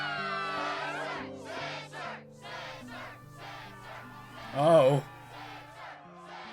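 A fired-up crowd roars and cheers at the Struggle tournament in Kingdom Hearts 2, as Roxas faces champion Setzer. The steady crowd noise runs throughout, swelling into one loud shout near the end, with a brief spoken exclamation over it.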